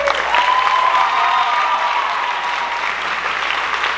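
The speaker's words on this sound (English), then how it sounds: "a round of applause for these solid gold struts." An audience applauds contestants at a college Mr. Juniata pageant with a kickline, a loud, dense, sustained burst of clapping with a few cheers and a whistle rising above it.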